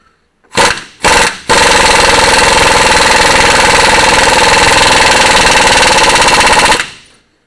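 Impact wrench fitted with a swivel tightening a bolt on the front end of a Ford F550 truck: two short loud bursts, then a sustained hammering rattle lasting about five seconds, very close and loud.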